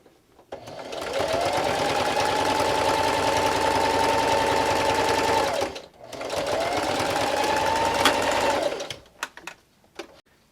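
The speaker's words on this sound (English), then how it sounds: "So I'm going to backstitch again." A sewing machine stitches fabric for a headphones pouch in two loud, steady runs, with a short pause between them, then a few clicks and clunks as it stops.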